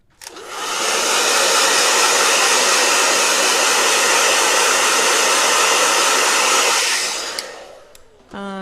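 A handheld blow dryer runs steadily at close range for about seven seconds, a loud continuous broadband whoosh, then switches off with a brief click and clatter near the end.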